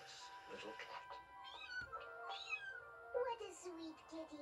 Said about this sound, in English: High above Paris, there it sat, a tiny, hopeless little cat.